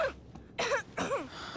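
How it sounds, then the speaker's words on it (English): A character in the video game Life is Strange 2 gives a couple of short, rough coughs and a throat-clearing rasp, close up and alone, with brief quiet gaps between the bursts. "that cough doesn't sound too good."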